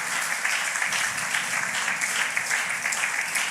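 A church congregation at an evangelistic service applauds steadily, a dense wash of many hands clapping throughout, fairly loud and unbroken, with no distinct voices.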